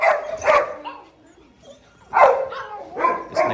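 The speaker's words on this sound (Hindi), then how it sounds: "ये देखो गुर्राया" A Rottweiler gives short vocal bursts, a low growl mixed with yips and whimpers, in close bursts broken by brief pauses.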